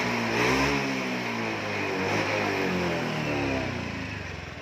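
A Honda Moove scooter engine revs up and down nearby, its loud throaty drone rising and falling in pitch without any talk.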